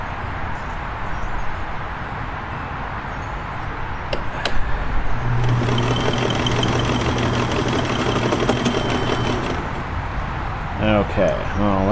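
A Kenmore 1410 sewing machine with a faulty cam selector runs and stitches in a steady mechanical whir for several seconds, with light clicks and rattles around it and a voice speaking near the end.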